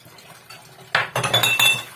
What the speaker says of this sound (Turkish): buradan çıkan bulaşıkları elde yıkayacağım